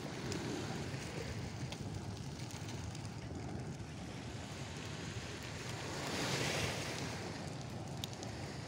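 Ocean waves at a seaside spot during a beach cookout make a steady, broad wash of surf that swells louder for a moment near the end. Wind buffets the microphone throughout, and no voices are heard.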